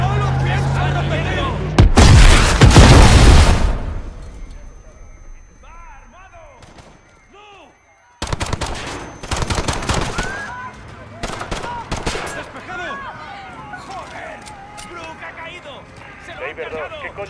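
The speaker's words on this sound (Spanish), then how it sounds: "Se han producido disparos." Gunfire and explosions in the Call of Duty: Modern Warfare campaign at Piccadilly: a loud, booming blast early on, then bursts of rapid shots and scattered cracks, with people shouting between them.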